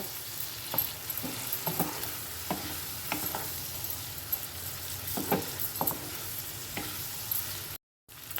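Washed rice being stirred in a frying pan with oil and spices for a soya chunks dish, a quiet background sizzle broken by irregular scraping clinks of the spoon against the pan, ending in a brief dropout.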